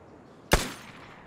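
A single sharp gunshot in the video game Vigor cracks out loud and close, then decays quickly into a faint tail.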